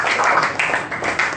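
Students in a classroom clap together as a reward, a short burst of dense, fairly quiet applause with quick rhythmic pulses.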